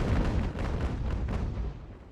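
Broadside cannon fire from sailing warships in Ultimate Admiral: Age of Sail, a loud continuous rumble of overlapping deep booms that slowly tails off.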